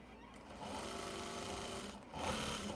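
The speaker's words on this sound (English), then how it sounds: "I'm just sewing through layers right now and not noticing what I'm sewing through." A sewing machine stitches steadily through several fabric layers of a blazer, a quiet continuous mechanical whir that speeds up slightly near the end, heard alone.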